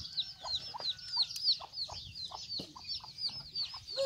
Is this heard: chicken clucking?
yes